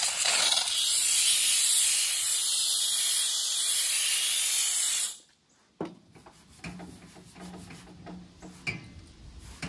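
A 1200-watt handheld Grant's steam cleaner sprays a greasy grill with a loud, steady hiss for about five seconds. Then it stops, and quieter scraping and handling noises follow.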